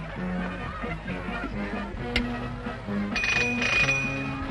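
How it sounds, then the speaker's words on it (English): A ship's bell rings in a 1936 film soundtrack amid a busy, musical background with clattering and tones, the ringing clearer toward the end. "Who rang that bell?"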